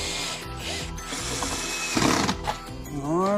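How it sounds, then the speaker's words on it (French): A screw is driven into a new leg for an Ikea cabinet with a power screwdriver, a steady close motor whir with slight pitch changes and a brief strain near the end. "je vais le visser"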